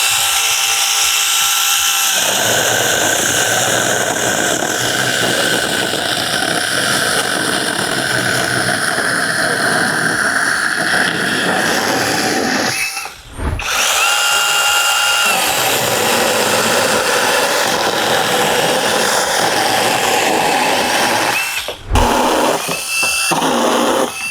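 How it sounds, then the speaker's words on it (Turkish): An Assur cordless saw cuts through a thick piece of wood, a loud, steady motor whine running continuously with two brief dropouts where the blade pauses. "Evet keselim bakalım. Şu kalınlıkta bir odun var."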